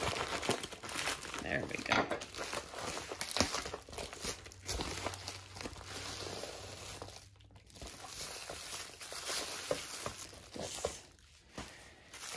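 Crinkly plastic bag packaging around a cassette tape being torn and crumpled open up close, with rustling throughout and a brief spoken remark.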